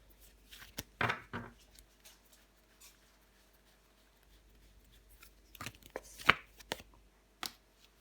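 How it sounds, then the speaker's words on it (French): Tarot cards are handled and laid down on a table, with soft, sparse shuffles and flicks in separate quiet bursts and near silence between them. "On va recouvrir des cartes."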